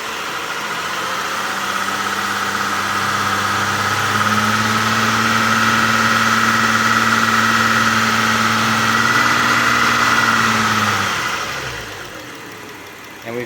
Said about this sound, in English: So what we're going to do is give it some RPM.